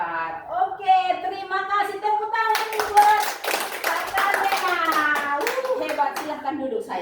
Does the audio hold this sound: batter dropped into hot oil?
no